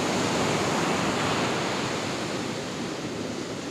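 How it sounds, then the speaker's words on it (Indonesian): Big ocean waves crash at Buyutan beach in Pacitan, a loud, continuous roar of surf that fills the whole stretch without pause, with some wind buffeting the microphone. "Ombaknya emang lagi gede banget ya, bisa kalian lihat."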